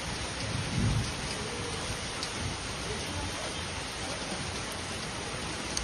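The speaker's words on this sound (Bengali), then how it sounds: "দারুণ বৃষ্টি হচ্ছে" Heavy rain pours steadily in a broad hiss on surfaces nearby, and a low rumble of thunder swells briefly near the start before fading back under the downpour.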